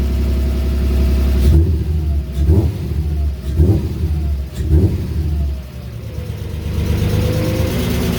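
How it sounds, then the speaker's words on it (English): Nissan VQ35HR V6 swapped into a Toyota Cressida, revved in several sharp blips that climb and fall back to a steady idle, loud and close from the driver's seat with exhaust note. "Let's give it a rev."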